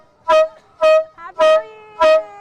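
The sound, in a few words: giant pump-action air horn blowing, New Year noisemaker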